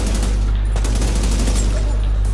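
Rapid, sustained automatic gunfire in the video game Division 2 on PS4, a dense, loud rattle of bursts filling the whole stretch over a heavy low rumble.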